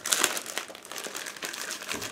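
A plastic bag holding model kit parts crinkles and rustles up close as it is opened, in a steady run of small crackles with no talk.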